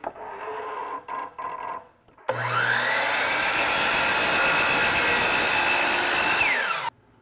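Power saw cutting wood for a bookshelf face frame: a few light handling knocks, then a loud, close motor whine cuts steadily for about four seconds before spinning down.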